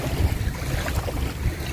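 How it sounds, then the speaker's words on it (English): Calm sea water off Abu Dhabi laps gently against a boat or shore, with a steady low wash and light wind noise running throughout and no voices. "This water is so peaceful."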